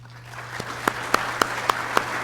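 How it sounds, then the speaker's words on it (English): Audience applause fills a morning gathering, a steady wash of clapping with a few louder individual claps standing out at a regular rhythm, close and sustained for a couple of seconds. "let me ask you all to give them a round of applause"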